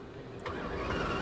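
A Ferrari engine cranks and fires up indoors at an auto show, a sudden burst of engine noise that settles into a steady, loud running rumble.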